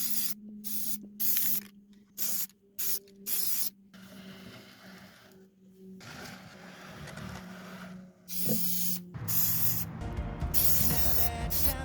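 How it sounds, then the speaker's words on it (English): Bursts of aerosol spray paint coating wooden bunny decorations with semi-gloss clear coat: several short hissing sprays, then longer continuous ones, close and fairly loud with pauses between. "Spray painted them with semi-gloss clear coat to seal and protect them."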